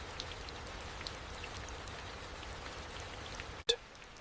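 Heavy tropical rain falls on the Sundarbans forest as a steady, even hiss of drops on leaves, fairly soft and continuous, with a single sharp knock near the end.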